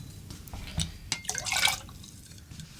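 Two ounces of tequila poured into a highball glass, a short trickle with drips and faint glassy clinks, close and fairly quiet, no talking.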